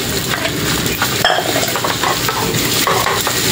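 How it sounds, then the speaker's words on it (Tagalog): Cooked rice is stir-fried for egg fried rice, a loud, close, continuous sizzle with scraping of a utensil against the pan and occasional clinks of cookware. "Siyempre, halo na natin yung kanin."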